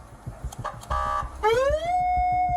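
An electronic siren rises in pitch and holds a steady wail, preceded by a few short chirps, with a faint rhythmic thumping underneath.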